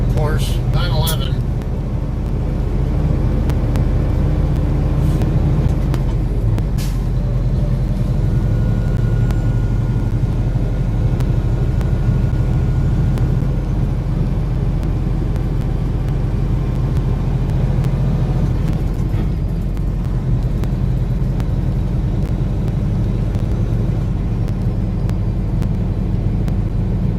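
Steady road rumble and tire noise from inside a car moving with highway commuter traffic in Southern California, a continuous low drone with occasional passing vehicles, including a Porsche 911, and faint voices underneath.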